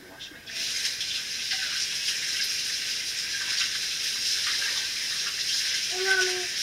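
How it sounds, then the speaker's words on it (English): Tap water runs steadily into a sink as hands are washed, a continuous close splashing hiss with no talk over it. "Wash my hands."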